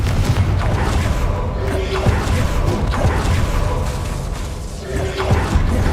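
Confringo explosion spells fired in Hogwarts Legacy, booming blasts with whooshes layered over a loud, dense game soundscape of rumbling effects that runs throughout.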